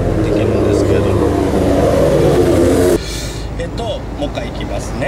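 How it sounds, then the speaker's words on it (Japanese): A manual car pulls away from a stop on the half-clutch, a loud steady engine drone with low rumble that drops abruptly partway through to a quieter rolling hum. "慣れてきたら、普通にこういう感じで発進できます"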